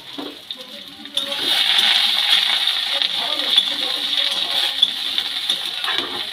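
Potatoes, eggplant and green chillies are stirred in hot frying oil, giving a steady hiss and sizzle after a quieter opening, with occasional soft scrapes and clinks of the spoon against the pan throughout.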